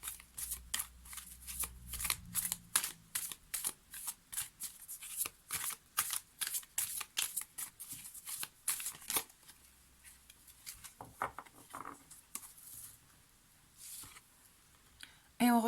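Oracle cards shuffled for a reading, producing rapid, crisp riffling slaps in quick bursts close to the microphone, then softer card handling later, with a voice speaking underneath at times.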